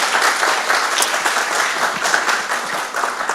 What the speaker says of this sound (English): Now, let's give our panel here a round of applause.